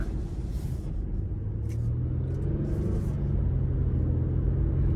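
A 3.7-litre V6 in a 2015 Infiniti QX70 pulls steadily under throttle from inside the cabin, its low rumble building gradually over about five seconds with no talking.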